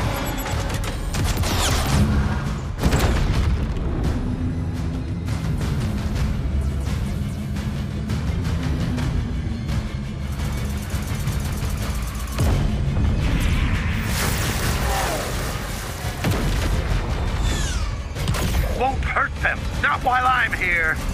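Weapons fire and explosions crackle through a dense space-combat battle in the video game Chorus, with booming bursts and rapid shots layered under urgent spoken dialogue and music throughout.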